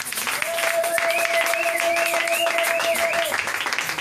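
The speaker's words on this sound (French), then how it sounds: "Est-ce qu'on peut acclamer la parole de Dieu?" A church congregation applauds and cheers the word of God, a steady wash of clapping and crowd noise for several seconds with a sustained tone running underneath.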